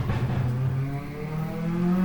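A car outside revs loudly, its engine note rising and falling in long, tonal sweeps that sound moderately distant and carry steadily throughout.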